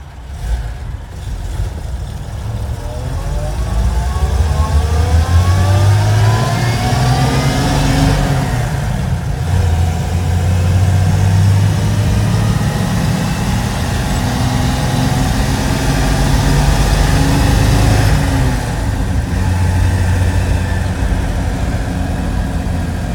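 A 1972 Toyota FJ55 truck engine drives through town, loud and steady from inside, rising and falling in pitch through gear changes with no speech.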